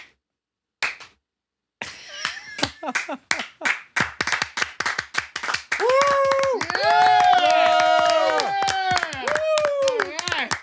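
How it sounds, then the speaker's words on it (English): Several sharp hand claps snap out in a quick irregular burst after brief silence, followed by overlapping voices talking and cheering loudly. "We clap."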